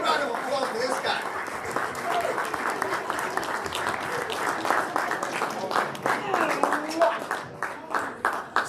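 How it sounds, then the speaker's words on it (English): An indoor audience at a county executive campaign kick-off claps and applauds steadily throughout, a dense wash of hand claps with scattered cheers and voices mixed in. "Big round of applause for this guy."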